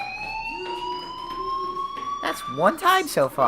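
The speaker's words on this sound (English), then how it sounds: "do you hear that fire alarm? That means you should be outside." A fire alarm sounds in the video game Life is Strange as a steady, high electronic tone with clear harmonics, ringing continuously. A voice speaks over the final second or so.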